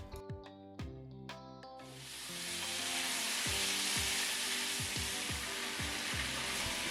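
Pork sizzles loudly in ginger sauce in a pan: a few clanks of utensils at first, then a broad, steady hiss of frying close up, with occasional stirring knocks.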